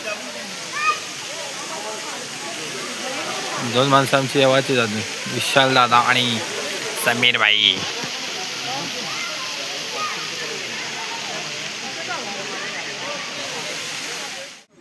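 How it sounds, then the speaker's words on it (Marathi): Rain and a waterfall at a hillside temple make a constant loud rushing hiss, and people talk over it for a few seconds. "पाऊस बिऊस धबधबा."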